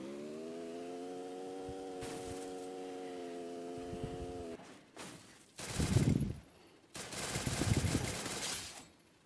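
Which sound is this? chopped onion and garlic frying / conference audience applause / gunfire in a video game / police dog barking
gunfire in a video game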